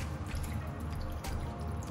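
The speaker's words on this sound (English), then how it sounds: "You can add some more water to this" Water trickles and drips into a simmering salmon curry made with tomato puree, a faint, brief liquid patter with soft gurgling and no voices.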